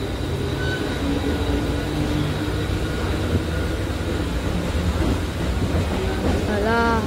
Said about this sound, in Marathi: ट्रेन सुटली आहे CSFTवरून.